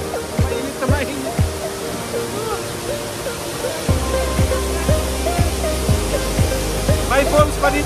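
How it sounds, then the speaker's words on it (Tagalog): Small waterfall at Tangle Creek Falls in Jasper National Park, a steady broadband rush of falling water heard nearby, with low thumps scattered over it. "May falls na maliit dito."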